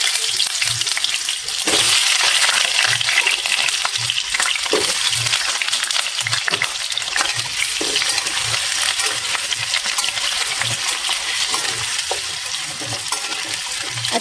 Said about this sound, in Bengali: এই আলুতে জল থাকে তো পুরো একদম চড়বড় চড়বড় করে ছাড়তে থাকে